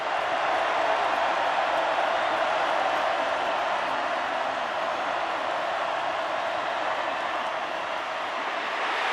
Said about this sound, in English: Listen to this crowd ahead of this 3rd and 12.